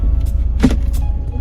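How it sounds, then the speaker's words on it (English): One heavy clunk as a car's automatic transmission is shifted between gears, standing out over the steady low rumble of the engine idling inside the cabin. "There's quite a big clunk when I shift between the gears."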